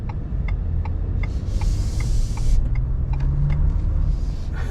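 A 2021 Ford F-150 XLT Sport with the 2.7 engine accelerates along a street, its steady low rumble building slightly and close by, with faint road and cabin noise over it.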